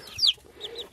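Growing baby chicks kept warm under a heat lamp in a brooder cheep and cluck as they get agitated, one sharp loud chirp followed by a few fainter calls close by.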